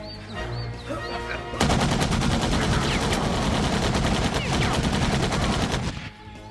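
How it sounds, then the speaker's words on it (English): Sustained automatic gunfire from a 1996 action movie shootout, Bloodfist VIII: Trained to Kill, bursts in at about 1.5 seconds as a loud, continuous rapid rattle of shots that runs for several seconds before cutting off near the end. "there's like 5 minutes of shooty gun stuff"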